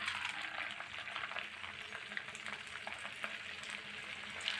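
Hot oil hisses and sizzles steadily in a pan before vanjaram fish are fried, a dense, even crackle close by, with no voices.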